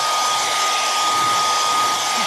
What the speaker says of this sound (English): I grab a blow dryer so I can dry this